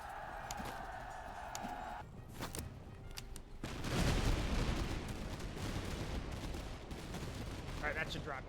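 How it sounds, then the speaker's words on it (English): Grenades burst during a battle in the Master of Command strategy game, with a few sharp cracks and then a louder, rumbling burst. Distant gunfire continues under a voice speaking faintly. "Yep, there go the grenades."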